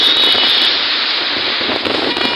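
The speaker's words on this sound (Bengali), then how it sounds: "বৃষ্টি শুরু হয়ে গেছে" Stormy rain on Chittagong Road in Siddhirganj, Narayanganj, makes a loud, dense, continuous roar with traffic passing along the road.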